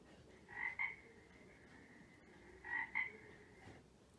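A frog in a forest gives two faint, evenly spaced double croaks, each a short pair of calls, over a quiet background hiss.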